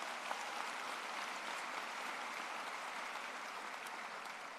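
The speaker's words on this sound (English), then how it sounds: "how about another round of applause for Charles?" Sustained crowd applause at a Mines convocation ceremony, a dense, even wash of clapping from a large audience that holds steady for the whole stretch with no talking over it.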